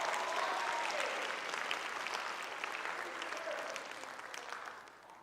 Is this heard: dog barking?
no